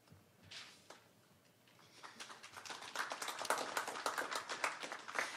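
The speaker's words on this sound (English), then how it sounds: "you all deserve a round of applause" Applause at a government technology announcement, faint scattered claps at first that build into a fuller patter of several hands, fairly quiet and distant, growing over a few seconds.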